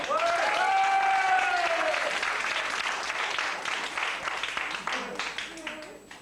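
Audience applause at a comedy sketch performance in Propriano, Corsica, a full crowd clapping that starts with a whistle or cheer over it and fades gradually, with voices mixed in beneath.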